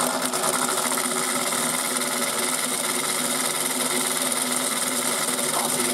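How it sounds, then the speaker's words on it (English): A high-pitched motor of a 1980s Nikko America Mighty Washer toy washing machine whirring steadily at high spin speed, loud and close, with a constant buzzing drone and no pauses or voices. "It sounds like one's spinning as well. Watch this, turbo."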